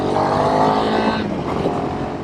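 A Royal Enfield Himalayan 452 motorcycle in Kaza Brown runs under way on a ride, its engine a steady close drone with wind rush that eases slightly partway through.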